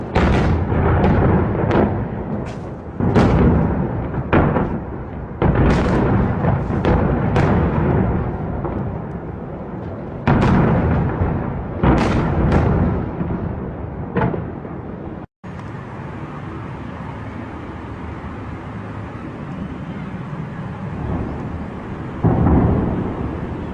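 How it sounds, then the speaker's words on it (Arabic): Missile strikes and bombing explosions rumble in a rapid series of heavy, booming impacts, many overlapping blasts in the first fifteen seconds, then a quieter stretch of distant rolling noise with one more thud near the end. "Градов, Все, бомбят."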